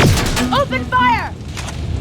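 Gunfire in the Terminator: Resistance video game opens with a loud boom, while a sweeping synthetic whine and a voice sit over a rumbling battle bed.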